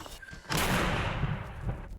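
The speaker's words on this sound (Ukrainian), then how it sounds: "Постріл!" A single loud gunshot bursts out in Odesa, followed by a rolling echo that fades over a second and a half.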